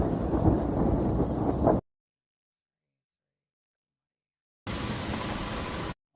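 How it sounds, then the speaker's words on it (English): Heavy rain and rumbling thunder in an ambient field recording pour as a dense, loud wash of noise. The roar plays for under two seconds, cuts to silence, then returns for a second burst. "Lots of rain here."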